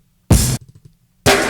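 Two separate drum-break hits, cut and exported in mono for LSDJ on a Game Boy, each a loud broadband burst about a quarter-second long, with soft low knocks sounding in the gap between them.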